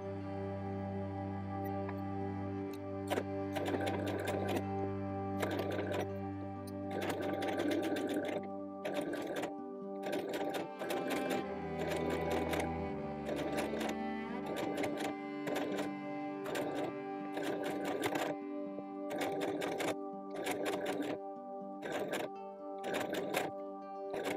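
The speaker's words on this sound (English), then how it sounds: "I'll be sewing around the collar now" A sewing machine stitches around the collar of a small doll blouse in repeated close, loud bursts of rapid mechanical running separated by brief pauses, with no voices.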